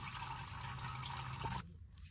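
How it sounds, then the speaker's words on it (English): Engine oil from a Cummins diesel truck drains into a pan during an oil change, a steady close trickling splash that stops abruptly near the end, leaving a quieter background. "All that oil's done dripping."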